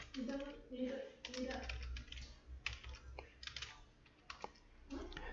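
Code being typed on a computer keyboard while writing an Excel VBA auto-save macro, bursts of rapid close key clicks with short pauses, under quiet talk.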